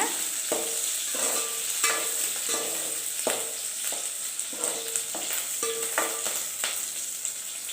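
Curry leaves hit hot oil for a Chettinad fish curry, making a soft, even sizzle broken by regular scraping stirs of a spoon against the pan, close but fairly quiet, with no voices.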